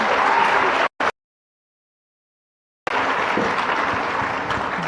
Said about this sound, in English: Is that the best clap we can do for all these wonderful women tech makers?